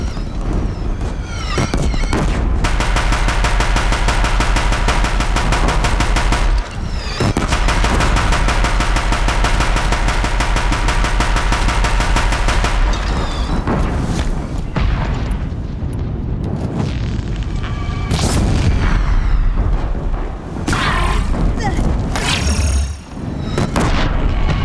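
Deathbringer machines in Horizon Zero Dawn fire heavy, continuous volleys of gunfire, with loud rapid bursts, booming blasts and explosions through most of the clip.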